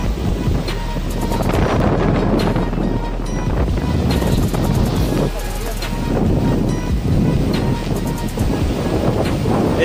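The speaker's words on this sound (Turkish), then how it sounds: "Esiyor, bir rüzgar var" Strong wind gusts buffet the microphone in a continuous low rumble beside a lake in Istanbul, with water lapping in the background and muffled voices at times.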